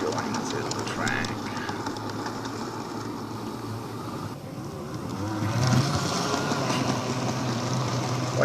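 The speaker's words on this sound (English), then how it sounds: "you can really hear the noise of the motor of the train" An N gauge model train's small electric motor whirs steadily with a rattling rumble as it bumps over track joins, swelling slightly as it passes close by, over a continuous mechanical hum.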